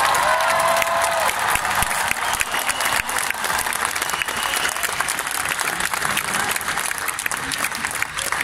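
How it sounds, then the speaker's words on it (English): A large concert crowd at a show applauds continuously in a dense, loud wash of clapping with some cheering, sustained throughout and broad like an arena. "give them a big round of applause"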